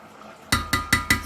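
A spoon stirring salt into water in a rice cooker pot, four sharp metallic clinks in an even rhythm after a quiet moment, close and clear, no talk.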